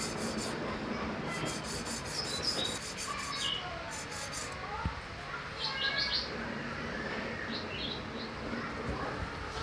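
A planer knife is sharpened by hand, giving a steady rasping rub of blade on stone throughout, with birds chirping in the background outdoors.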